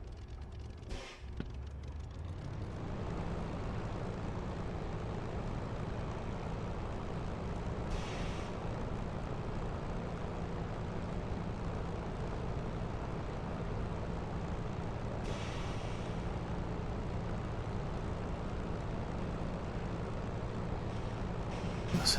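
A Spitfire engine idles and taxis in a flight simulator, a steady low droning rumble running continuously and fairly loud, with a couple of brief hissing bursts of brake air along the way.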